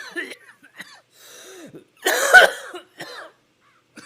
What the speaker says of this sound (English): Show him that cough.